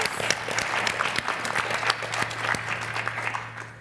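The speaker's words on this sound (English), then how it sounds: "Big round of applause." Sustained applause from a conference audience acknowledging a team standing up, dense clapping with sharp individual claps throughout, a steady low hum underneath, fading slightly at the end.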